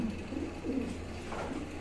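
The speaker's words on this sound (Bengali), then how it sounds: "এটা গ্রে বার্লেস কবুতরগুলা, নিউ অ্যাডাল।" Grey barless German beauty homer pigeons coo nearby in a series of soft, low, throaty rolling calls repeating every half second or so over a faint steady background hum.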